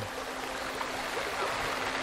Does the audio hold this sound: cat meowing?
no